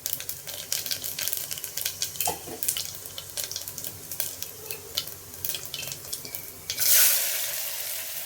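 Fennel seeds and whole spices sizzle and crackle in hot oil while a Thala curry is being made, with irregular sharp pops and stirring scrapes over a low hum, ending in a louder burst of hissing.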